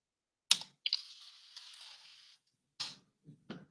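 Computer keyboard typing in a quiet room, a short burst of clustered keystrokes followed by a few separate taps, close and fairly quiet with no talking.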